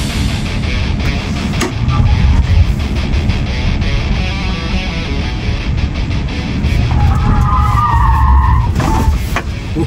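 A Tesla Model Y Performance in track mode skids around an empty parking lot, its engine-free drive noise under a steady loud roar of tires, with a sharp tire squeal rising near the end.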